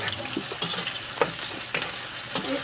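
Onion and garlic hit hot oil in a pan for corned beef with potatoes, a close, busy sizzle with several sharp stirring scrapes over a couple of seconds.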